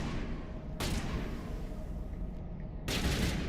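Gunfire in the video game Mass Effect, aimed at an enemy's shield: two loud bursts of shooting, one near the start and one near the end, with dense game ambience between them.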